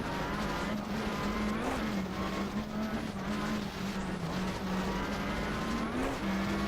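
A rally car flat out on a gravel stage at Coffs Harbour, heard on board: a loud, steady engine drone holding high revs through fast fourth- and fifth-gear corners, with brief pitch dips at gear changes and continuous road roar underneath.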